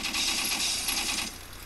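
A burst of rapid, rattling cannon fire from an aircraft in the game Airfix Dogfighter, loud and continuous for just over a second before cutting off to a quieter hum.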